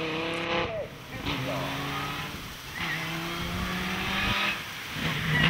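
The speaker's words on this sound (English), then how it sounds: "especially with 8 litres of supercharged V10 under your right foot" An 8-litre supercharged V10 hillclimb car blasts uphill at Gurston Down, its engine howling loud and close through repeated rising gear pulls with short shift breaks, while a commentator talks over it.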